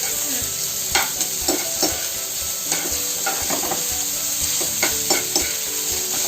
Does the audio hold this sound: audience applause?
no